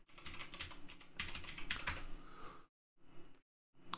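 Password being typed on a computer keyboard, a rapid run of close, crisp key clicks for over two seconds, then two short bursts of keystrokes separated by brief silences.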